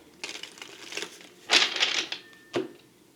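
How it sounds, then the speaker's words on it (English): Tarot cards being shuffled by hand, giving a few papery riffles and slaps in quick bursts, close and moderately loud, with no talking. "one more shuffle."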